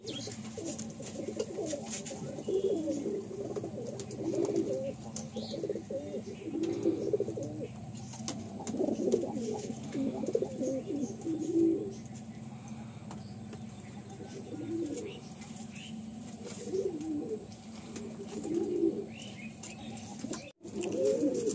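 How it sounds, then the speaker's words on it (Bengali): Domestic pigeons at a Madrasi pigeon loft in Behala coo in soft repeated bursts, with occasional chirps and a brief flutter of wings as a bird is let out, moderately close and steady throughout. "আসুন বন্ধুরা আমার ছেড়ে দেখি পায়রাটা।"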